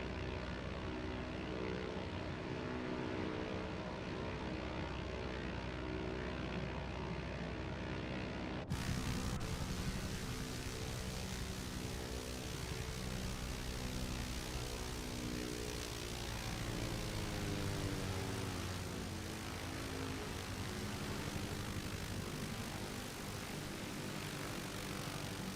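Aircraft in Microsoft Flight Simulator 2024 on PS5, a steady droning propeller engine hum that runs continuously, with a shift in tone partway through as the flight continues, no talking.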